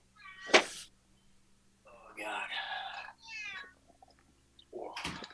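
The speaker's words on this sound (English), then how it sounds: "I do hear a cat." A cat meows close by, one sharp loud cry followed by longer drawn-out yowls, with quiet room background and a brief sound at the end.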